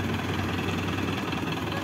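Mahindra 585 tractor engine running steadily at idle, a continuous low rumble with a slight knocking throb, close and loud throughout with no talk.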